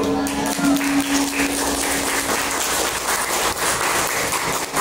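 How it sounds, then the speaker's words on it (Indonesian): Applause from a school audience after a pupil's speech at a state primary school, with dense, steady clapping that fills the whole stretch at high level, with a faint tone under it. "Tepuk tangan dulu."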